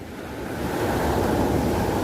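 Gentle sea waves of the Tyrrhenian Sea off Italy wash continuously in a dense, steady surf roar, close and fairly loud, with wind noise on the microphone and no voices.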